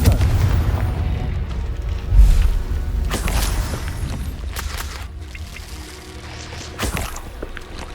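The Confringo fire spell from Hogwarts Legacy explodes in heavy, rumbling booms, with a strong blast near the start and further bursts later, loud and close.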